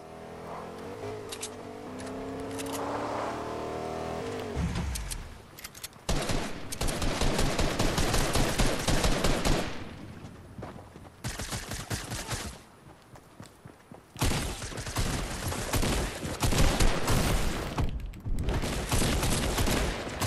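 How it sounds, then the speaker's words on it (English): Gunfire in Fortnite Season 5, loud rapid bursts and sustained volleys separated by short lulls, with faint movement sounds in the quieter stretches. "I can't tell who's shooting me."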